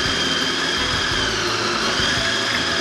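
A motorized kitchen grinder whirs steadily as it grinds garlic, turmeric and ginger with oil, salt and pepper, a loud, even, continuous hum with slight rattles and no voices.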